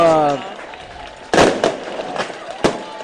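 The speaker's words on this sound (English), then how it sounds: "as fireworks going behind us" Fireworks bursting during a high school football game between Vilonia and Beebe, with a loud crack near the middle and another sharp pop later over a crowd background, after a voice at the start.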